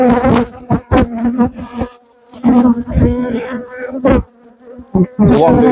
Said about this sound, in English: so the bees are going to be flying around like crazy